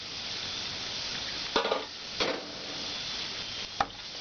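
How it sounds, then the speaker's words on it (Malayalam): Dried red chillies fry in hot oil with browned onions, giving a faint, steady sizzle with a few brief stirring scrapes near the end. "ഇനി ഇതിലേക്ക് നമുക്ക് വറ്റൽമുളക് ആഡ് ചെയ്യാം."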